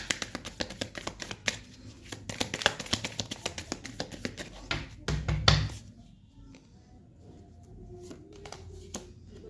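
Tarot cards being shuffled and drawn: a rapid run of close, crisp riffling flicks and taps, then a heavier burst of shuffling, followed by quieter handling and a brief pause.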